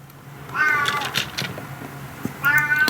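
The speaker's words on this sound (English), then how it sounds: "That cat's really noisy today." A house cat meows twice nearby indoors, a drawn-out cry near the start and another near the end, with soft workbench handling noises between.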